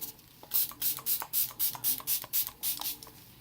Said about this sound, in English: I just usually kind of go very crazy too when I spray